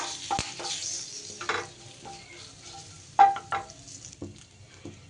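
Curry leaves hit hot oil in a pan with a few sharp crackles and sizzling bursts, interspersed with quiet stirring and light utensil clinks, fairly faint and close.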